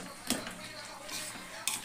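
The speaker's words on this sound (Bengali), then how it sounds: "আমগুলোকে একদম ঘাটিয়ে দিলাম।" Mango pieces stirred in oil for mango pickle, a brief scraping and mixing with two sharp clinks of a utensil against the pot, close and fairly quiet.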